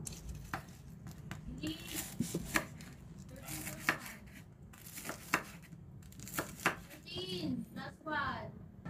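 A knife slices through a CDO crispy burger patty on a cutting board, making repeated crisp crunchy cuts and taps at an uneven pace. Someone talks softly over the cutting.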